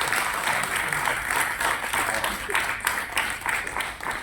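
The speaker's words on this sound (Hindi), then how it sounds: "आज के तो जोरदार तालियां चाहूँगा आप सभी की" Steady applause from an audience at a Jammu and Kashmir cine association ceremony, a dense wash of many hands clapping at moderate distance, continuous for several seconds.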